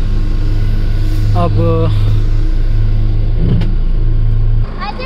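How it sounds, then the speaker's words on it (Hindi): A car engine runs at a steady idle right after being started, a loud continuous low rumble throughout, with a voice speaking briefly over it before the sound cuts down near the end. "तो गाड़ी फाइनली ऑन हो गई है"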